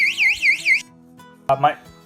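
An electric bike alarm built into a taillight gives out a loud, warbling siren that rises and falls in three quick sweeps, then cuts off, followed by a brief burst of a voice.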